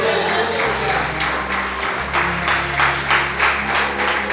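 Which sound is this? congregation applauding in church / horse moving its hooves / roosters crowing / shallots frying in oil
congregation applauding in church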